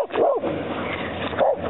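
A sled dog gives two sharp barks about a second apart, near and fairly loud, over an outdoor background with no talking.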